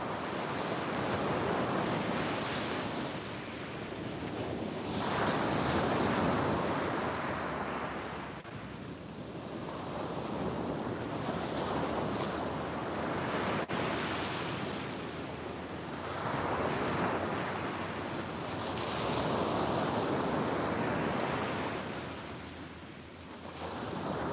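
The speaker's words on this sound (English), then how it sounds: "the sounds of the waves" Ocean waves roll in and break on a shore in slow repeated surges, with steady wind noise across the microphone and no voices.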